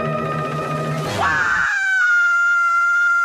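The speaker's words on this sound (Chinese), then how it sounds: "在第六区有人大叫。" A cartoon character lets out a long, loud yell that rises sharply in pitch and then holds as a sustained shrill cry, close and alone.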